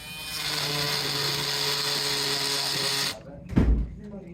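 A DeWalt 20V MAX XR oscillating multi-tool fitted with a wood-and-metal combination blade buzzes loudly up close while cutting plywood for about three seconds, then stops abruptly, followed by a brief low thump.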